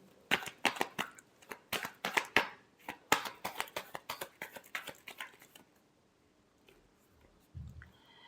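Tarot cards shuffled by hand in a long run of crisp riffling bursts and slaps, loud and close, for about six seconds, then quiet with a faint low knock near the end.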